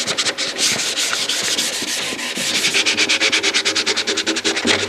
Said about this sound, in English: Once you get done lightly sanding it, don't blow the dust off.